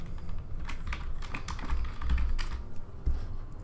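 Computer keyboard keys tapped in a quick, uneven run, close and fairly loud, while entering a buff name into a game interface's settings; no voices.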